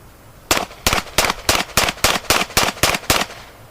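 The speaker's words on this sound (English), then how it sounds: "Held the gun out with two hands, aimed at the target, fired off 10 shots as fast as he could." A semi-automatic handgun fires ten rapid shots at a target in an even, fast rhythm, each crack sharp and loud, with brief gaps between them and no talk.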